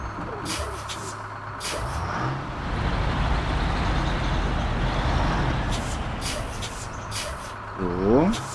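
A heavy truck in the SnowRunner video game reverses, its engine rumbling steadily throughout, with air-brake hisses near the start and near the end and a short rising mechanical whine as it finishes.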